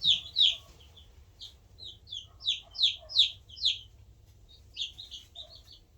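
Chicks in a brooder peep in quick, high, repeated bursts, clustered and fairly close, over a faint low hum.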